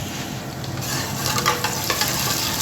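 Onion, garlic and ginger paste frying in a pan over fried onions, a steady close sizzle with the soft scrape and clatter of stirring running through it, no voices.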